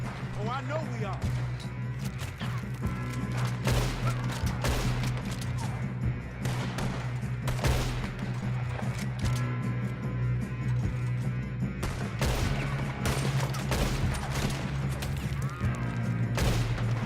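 Gunshots ring out in a Red Dead Redemption 2 shootout, scattered sharp cracks and bursts over a steady game soundscape, with people talking throughout.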